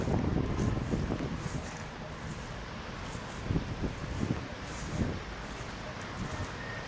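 Steady roar of strong Super Typhoon Uwan wind buffeting the microphone, with gusty surges and rumbling low-end noise throughout.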